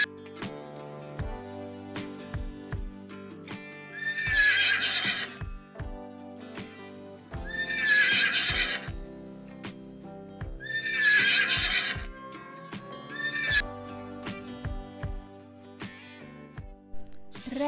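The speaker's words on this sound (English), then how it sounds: "Horse, H-O-R-S-E, horse. It runs very fast." A horse whinnies loudly three times in long, rising-and-falling bursts, with clip-clop hoofbeats tapping steadily in between, close and clear with no talking.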